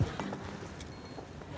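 Faint, quick clip-clopping of horse hooves plays in the background, a few light, irregular knocks at a distance with no speech over them.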